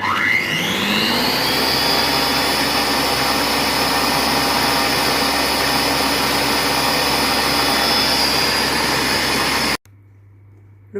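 A Compact Cook Pro food processor purées broccoli and goat cheese soup at speed 10, its motor whirring up quickly then holding a loud steady high-pitched drone for about ten seconds before cutting off abruptly, followed by a soft beep.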